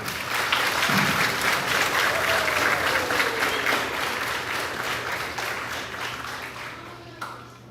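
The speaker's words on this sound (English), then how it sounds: "Give Mr. Estep a round of applause, please." Sustained applause from an audience filling a school gym at a grades 4-6 awards ceremony, dense and steady for several seconds before thinning slightly and stopping near the end.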